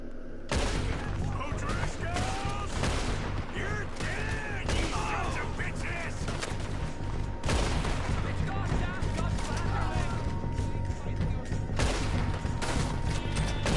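Gunfire in a video game: dense, continuous shooting crackles and booms close up throughout, with voices and game sounds mixed beneath the shots.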